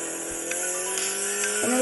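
A car engine hums steadily in an accessible pizza delivery video game, with short tire squeals and brief bumps as the car brakes and turns, fairly quiet and alone.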